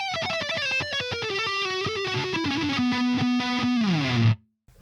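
An electric guitar played through a Donner Blues Drive overdrive and a distortion pedal plays a heavily driven lead. A run of picked notes descends and then settles into a sustained, saturated note that rings out and fades.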